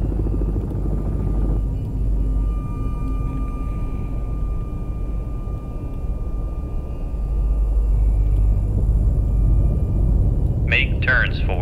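Helicopter in the submarine video game Cold Waters, set in the 1984 North Atlantic: a steady low rotor drone held throughout, with a brief electronic chirp near the end.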